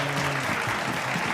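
A short burst of clapping for a birthday, steady and fairly loud, with a faint tone and voices underneath.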